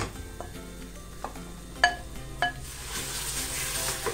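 Celery goes into a pan of fried tomatoes: spoon and pan clinks ring out a few times over a low sizzle, followed by a louder hiss of frying as the vegetables land.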